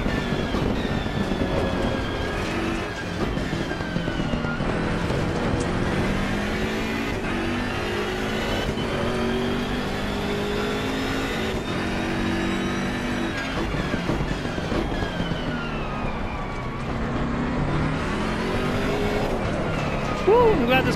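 A race car engine in the racing game Assetto Corsa Competizione revs continuously, its pitch rising and falling through gear changes and corners. The engine stays loud and steady throughout, with no break.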